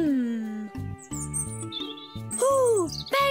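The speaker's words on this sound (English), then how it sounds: "Ooh, baby birds! I saw cute ones in their nest." Cartoon baby birds chirp in their nest, high squeaky tweets and sliding calls layered over bright playful music in a children's animated show.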